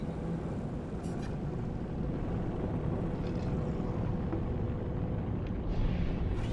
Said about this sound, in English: I guess it's not jumping, it's just pulse engine.